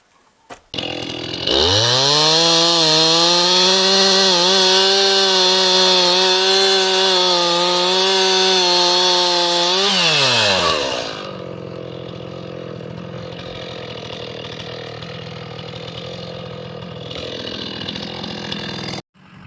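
A small, roughly eight-year-old chainsaw with no maintenance cuts firewood, its engine roaring loud and steady for several seconds with a slight pitch rise and dip, then dropping to a lower idle rumble that continues to the end.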